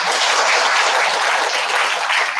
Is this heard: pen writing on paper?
no